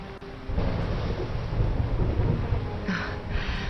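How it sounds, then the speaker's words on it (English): Rolling thunder during a storm in the video game Dragon Quest XI, a steady loud rumble with rain-like hiss sustained throughout and no talk. "Would you look at it thundering away out there?"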